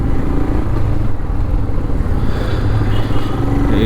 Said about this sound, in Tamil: இந்த லெஃப்ட் சைடில் போகுதில்ல இந்த வண்டி, இது என்ன மாதிரி வண்டினே தெரிலங்க எனக்கு.